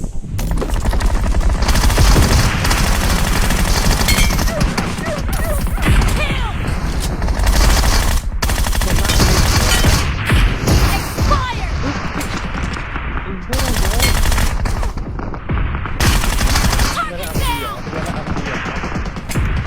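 Sustained loud bursts of automatic gunfire in PUBG Mobile's Flora Menace mode, rapid rattling volleys separated by brief pauses and occasional booms, with a player talking over the shooting.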